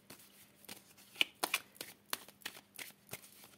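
Tarot cards are shuffled and cut by hand, quiet and close, a string of soft riffling slaps and taps in an uneven rhythm.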